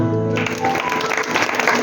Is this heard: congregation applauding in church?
yes